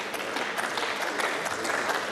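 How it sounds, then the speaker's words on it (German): Applause in the Austrian National Council chamber during a plenary session: dense, continuous clapping from many hands at a moderate distance, with faint voices underneath. "Weil der Kollege Essl so klatscht"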